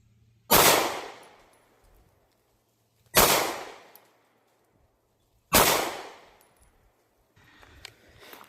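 Three evenly spaced gunshots from a pistol with a red dot sight, each a sharp, loud crack with a quickly fading tail, separated by quiet gaps, followed by faint handling noise.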